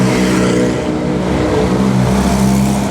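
Porsche race cars at the Mille Miglia on a rough street, engines roaring loudly and steadily as they drive past close by for the whole stretch.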